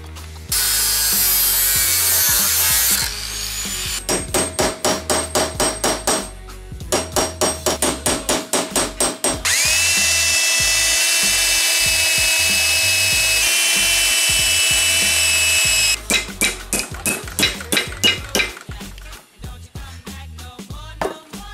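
A piece for an armored helmet is cut out with a tool, giving loud, rapid rhythmic clicking bursts broken by long sustained whirring cuts, all close and without voices.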